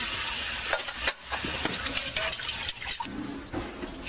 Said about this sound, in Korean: 설거지 도와주는 게